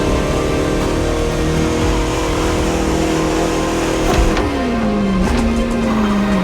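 A vintage Bugatti driven on French countryside roads in the racing game The Crew Motorfest, its engine humming loud and close at a steady pitch before dropping, then easing into a lower sustained drone.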